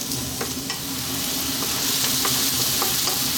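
Onions frying over high heat for a creamy bacon and pea pasta: a dense, steady hiss of sizzling oil with a few light spatula clicks, close and even throughout, no talk.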